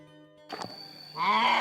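A single close bleat rises and wavers near the end, following a brief shuffle and a faint tone.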